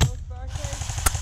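Airsoft guns firing during an outdoor capture-the-flag game, a sharp close crack at the start and another near the end, with a short voice sound in between.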